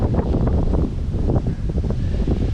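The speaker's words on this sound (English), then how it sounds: "you hear the gusts of wind coming in" Gusts of wind buffet the microphone at an exposed, northeast-facing wild-camping bivvy spot, making a continuous loud, low rumbling roar that swells and dips unevenly throughout, with no voices.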